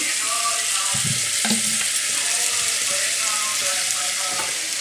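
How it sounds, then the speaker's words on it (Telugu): Bottle gourd pieces fry in a little oil, a steady loud sizzle with a few scraping stirs of the pan partway through, with no talk. "సొరకాయ ముక్కలు చిన్న చిన్నగా కట్ చేసుకున్నాను డైరెక్ట్గా వేసేస్తున్నా కొంచెం ఆయిల్ వేసాను సొరకాయ ముక్కలు వేసాను"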